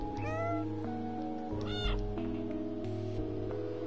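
A person imitates a cat's meow, giving a couple of short, rising and falling mews close up over a steady background drone from the game Stray.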